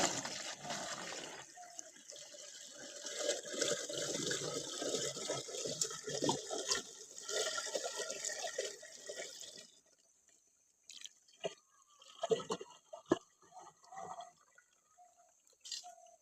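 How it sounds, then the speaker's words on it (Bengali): Water poured from a bucket into a machine in a village, a steady rushing pour for about ten seconds, then it stops, leaving scattered drips, splashes and clunks. "চলো মেশিনে জল ঢালো।"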